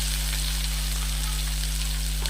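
Chopped onion hisses in hot oil, a short, steady, close sizzle with a faint low electrical hum running beneath it.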